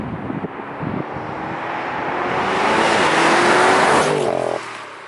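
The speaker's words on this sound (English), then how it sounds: "Let's find out what happens when you switch into Sport Plus mode, go into manual," A car in Sport Plus mode with manual shifting and a ZF eight-speed automatic revs hard, its engine note climbing steadily and loud for several seconds, then dropping sharply as the throttle is released.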